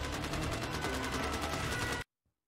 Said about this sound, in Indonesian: Six mengambil pistol milik polisi dan menembakkannya.